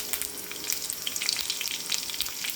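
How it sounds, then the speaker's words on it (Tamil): Mustard seeds and curry leaves crackle and sizzle in hot oil, a dense, bright spatter of small pops heard up close and continuing without pause, with no voices. "எண்ணெய் ஊற்றிருக்குமா இப்போ கடுகு போட்டுக்கலாம்"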